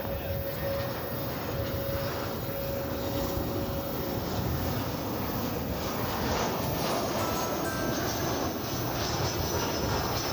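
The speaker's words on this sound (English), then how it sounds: "American flight from Silao, Mexico is touching down." An American Airlines jet touches down at DFW Airport, a distant, steady roar of engines and rumble under outdoor wind noise, faint and continuous.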